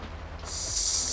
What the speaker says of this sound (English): Of course, rain.